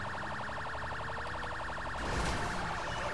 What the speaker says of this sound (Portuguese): Deixa eu ligar a sirene pra subir isso aqui.